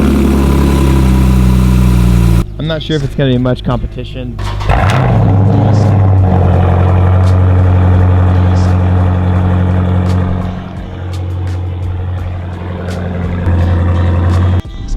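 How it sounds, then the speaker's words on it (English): A straight-piped Dodge SRT8 cold-starts with a loud bark, then settles into a deep, rumbling idle with a few small blips, while someone talks briefly over it. "this GoPro doesn't capture how great this exhaust sounds very well, but dude, it sounds incredible"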